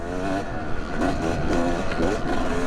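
A two-stroke dirt bike, either a Yamaha YZ250X or a KTM TPI, being ridden, its engine buzzing and revving in rising and falling surges, loud and close throughout.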